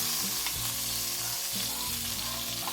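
Chayote shoots sautéing in a pan with garlic, onion and tomato, a constant close sizzle broken by scrapes and clinks from stirring, with no talking.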